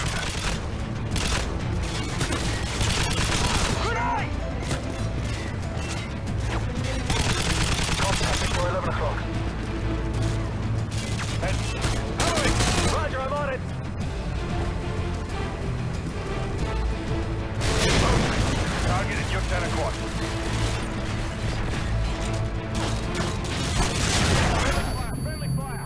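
Suppressing gunfire in the video game Call of Duty: Modern Warfare 2 keeps up as dense, repeated bursts of shots and booms across a loud ongoing firefight, with voices speaking throughout.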